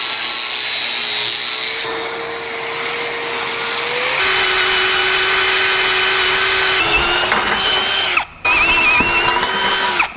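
A handheld power drill bores holes while rock sliders are fitted to a Land Rover LR4 truck frame, a steady loud whine that shifts pitch in stages as load changes, with brief pauses near the end.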